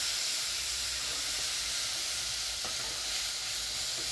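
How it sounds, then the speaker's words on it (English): Steady, close sizzling and hissing of beans frying with tomatoes in a hot pan, continuous with faint stirring clicks and no talking. "Remember, we're frying our beans."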